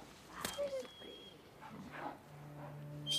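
A dog in the video game Days Gone gives short barks and whimpers between stretches of dialogue, fairly close and moderately loud.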